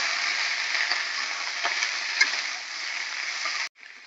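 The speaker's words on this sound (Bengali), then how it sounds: "এবার এটা ভালো করে একটু নাড়াচাড়া করবো।" Mango chutney with the peel left on is stirred in a hot pan, a steady soft sizzle with faint scraping that runs on, then cuts off abruptly near the end.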